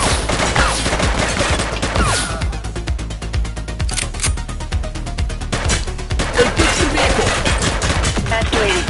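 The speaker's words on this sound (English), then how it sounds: "He's shooting!" Sustained gunfire from the police game The Precinct, with rapid, dense bursts of shots crackling nearly nonstop at close range and loud throughout.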